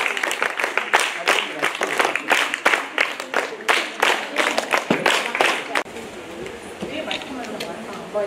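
Schoolchildren are welcomed with a burst of loud applause, many hands clapping briskly and close by for several seconds before the clapping thins out and fades, with voices heard over it.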